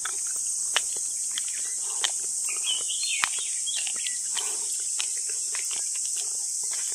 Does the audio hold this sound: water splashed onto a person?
no